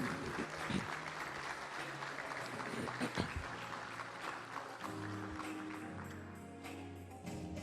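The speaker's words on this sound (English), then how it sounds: "let's give Jana Millen a big, big round of applause." A hall of fame ceremony audience gives a big round of applause, steady crowd clapping at moderate distance with a low musical tone entering partway through.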